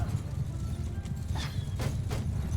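Cavalry horses galloping across a battlefield in Mount & Blade II Bannerlord, a steady rumble of many hooves with scattered sharper clops and clatter, continuous and fairly loud throughout.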